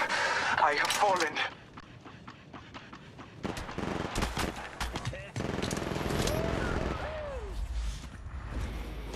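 Rapid bursts of gunfire from Apex Legends Mobile, sharp repeated shots in clusters with game effects and voices over them, loudest early on then continuing in busy volleys.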